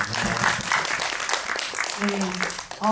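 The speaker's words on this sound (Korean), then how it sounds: "감독님께 박수 한 번만 다시 부탁드리겠습니다" A cinema audience claps for a film director at a special screening talk event, the moderate applause mixed with a host's voice speaking over it.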